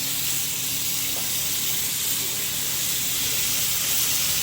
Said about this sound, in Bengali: মাছ সরিষার তেলে ভাজবেন